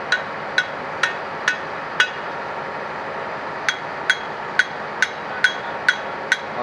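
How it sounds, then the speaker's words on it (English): Sharp hammer blows ring against metal while a traction motor is being worked on, about a dozen separate strikes in two bursts with a short pause between, clear and fairly close over a quiet background hum. "I went and got him a hammer."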